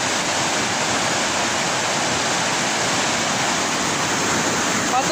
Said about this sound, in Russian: Поток воды завораживающий.